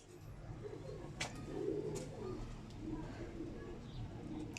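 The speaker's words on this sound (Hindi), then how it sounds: "ये अलमारी वाले कबूतर है मेरे हाथ में" Almari pigeons of the Kamagar type, held in a hand, give soft, low, throaty coos that come and go over a steady background hiss, fairly close.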